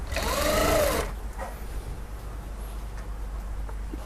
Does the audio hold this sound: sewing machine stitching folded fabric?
yes